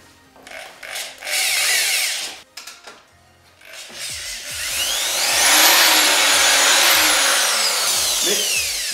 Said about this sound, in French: Je te laisse percer les trous